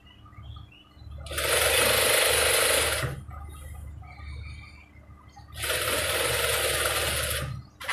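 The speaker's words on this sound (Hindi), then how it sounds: "यहाँ पर हम बोंट की सिलाई लगा देंगे इस तरीके से" Sewing machine running two bursts of stitching along a pillow cover seam, each lasting about two seconds with a brief pause between, loud and close with a steady whirring drone.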